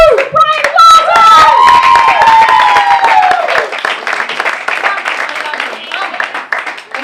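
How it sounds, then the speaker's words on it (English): A comedy club audience applauds and cheers for comedian Brian Walton: loud whoops and shouted cheers rise over dense clapping near the start, then the cheering fades and steady clapping carries on alone. "One last round of applause, Brian Walton!"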